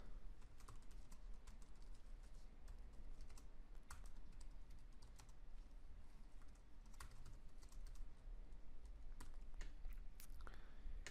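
Steady, continuous typing on a computer keyboard while ad text is entered, a dense run of clicking keystrokes at close range with no talking.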